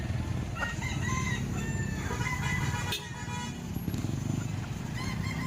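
A rooster crows outdoors in Lipa, Batangas, a loud, drawn-out call set against a steady wash of traffic and background noise, with a brief sharp sound midway.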